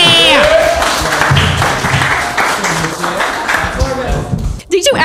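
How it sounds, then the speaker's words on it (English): Studio audience clapping and cheering, loud at the start and then fading under excited talk and laughter, with a brief thump near the end. "Yeah, clap for Marie"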